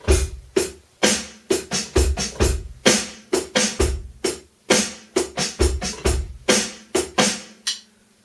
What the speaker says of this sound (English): which just between snare, bass, and hi-hat sounds like this